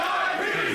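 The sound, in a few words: wrestling crowd cheering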